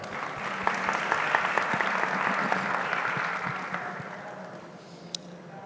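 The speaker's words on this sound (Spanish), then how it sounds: "Un aplauso para él." Audience applause for a panel speaker at a Colombian animation and new media panel, a steady, dense clapping wash from a full room that holds for several seconds, then thins out and fades toward the end.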